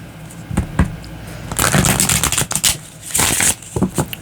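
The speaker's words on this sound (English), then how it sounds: "One more shuffle" Tarot cards riffle and shuffle close up in quick, papery bursts, a few sharp taps first, then a dense flurry of flicking and snapping cards.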